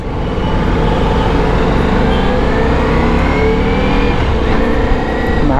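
A high-capacity Ducati Multistrada V4 motorcycle engine drones steadily while riding, a loud, continuous close rumble with wind noise and a slight rise in pitch toward the end.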